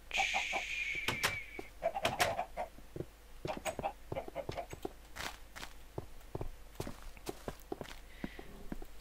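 Chickens in the video game Minecraft, with soft clucks scattered among a rapid series of sharp footstep-like clicks and taps. Faint talk is present underneath.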